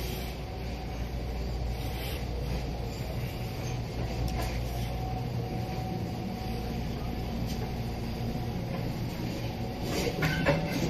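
A passenger train rolls steadily along its rails, heard from inside an almost empty carriage as a continuous low rumble with faint clickety-clack and rattling that stays even throughout.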